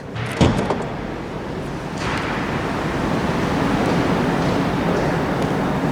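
An automatic sliding door on a Volkswagen ID. Buzz electric minibus opens with a sharp click at the start, followed by a steady motor-driven glide with no talking.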